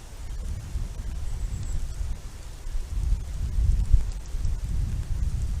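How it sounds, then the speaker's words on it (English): Wind gusts rumble across an outdoor campfire cooking site, a low buffeting roar that swells and fades with a stronger gust near the middle, alone with no talk. "And the wind is blowing."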